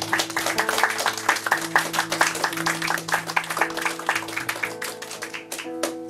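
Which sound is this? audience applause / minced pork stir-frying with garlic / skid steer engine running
audience applause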